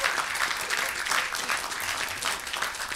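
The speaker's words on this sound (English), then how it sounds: "a big round of applause for everyone sitting up here." A crowd applauds a panel at a mental health event, steady and full clapping from many people in a room, holding at an even level throughout without speech on top.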